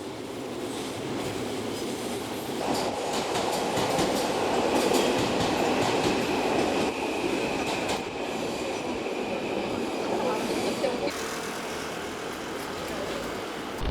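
A train rolls steadily past a railway crossing in Tokyo at close range, wheels rumbling and clattering over the rails with a faint squeal, continuous for the whole stretch.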